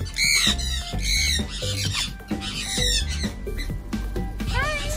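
Birds squawk repeatedly in an aviary at Costa Maya, Mexico, loud harsh calls close by in quick overlapping bursts, with other bird chatter around them.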